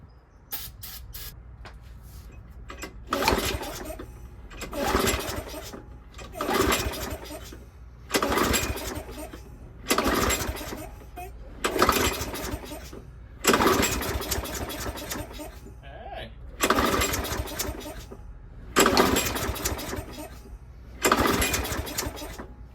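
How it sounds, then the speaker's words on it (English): A lawn mower engine sprayed with carb cleaner repeatedly sputters to life in short loud bursts of a second or two, separated by pauses, about eight attempts in a row. "Got some carb cleaner to see if it pops off"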